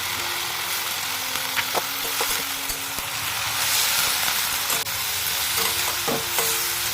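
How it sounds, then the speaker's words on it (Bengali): Thin-sliced bitter gourd frying with onion and green chili in a pan, a continuous close sizzle over seven seconds with occasional clinks and scrapes of stirring. "করলা কেটে নিয়েছি করলা ভাজা করব"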